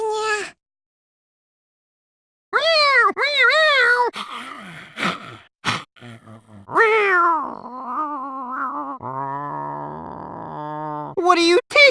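A cat-like character in the video game La Pucelle Tactics lets out a string of voiced meows and caterwauling cries, loud and close, as a performer imitates a cat in short bursts separated by silence.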